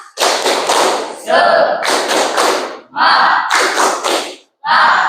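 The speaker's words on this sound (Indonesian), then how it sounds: "marilah kita tepuk semangat ya" A group claps a rhythmic spirit clap (tepuk semangat) in a classroom lesson, with loud unison bursts in short patterned phrases separated by brief pauses.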